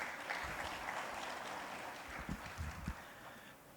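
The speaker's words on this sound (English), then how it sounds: "One round of applause for him, please." Applause for a senator at a Banjul Accord plenary conference of aviation ministers: a hall audience claps steadily, moderately distant, fading slightly toward the end.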